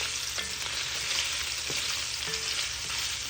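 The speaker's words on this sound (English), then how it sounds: "As you're cooking the sausage, remember to stir them so all sides cook evenly." Sausage fries and sizzles steadily in a pan while being stirred, giving a dense, even crackle with a few soft scraping knocks of the utensil and no talking.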